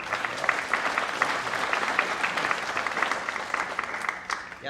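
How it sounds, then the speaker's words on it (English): Conference audience applause after a sponsor thank-you at the 2022 Monitorama monitoring event, a steady wash of many hands clapping together, moderately loud and fairly even for several seconds before tapering slightly at the end. "big round of applause for PagerDuty"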